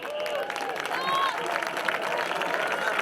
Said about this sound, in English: fans, how about a nice round of applause